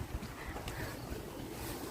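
Cold wind blows on a stormy morning by the sea, a continuous rough broadband rush with microphone buffeting and no voices.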